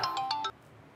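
An incoming-call phone ringtone plays a quick bright melodic burst of about four notes, then cuts off abruptly, leaving quiet room tone.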